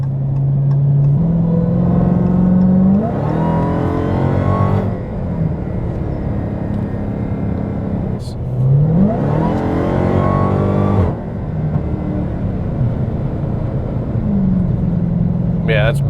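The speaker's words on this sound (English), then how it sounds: "we're gonna come up here on the highway and do a wide open throttle in-car pull" Hellcat Challenger with a JLT intake under wide-open-throttle acceleration on a highway, heard from inside the car: engine roar climbing through two long pulls with a gear shift dip between, loud and continuous.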